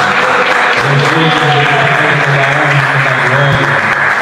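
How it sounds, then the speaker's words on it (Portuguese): A church congregation claps loudly and continuously, a full, dense wash of applause with a low sustained tone from an instrument or voice running underneath. "Uma salva de palmas para Jesus."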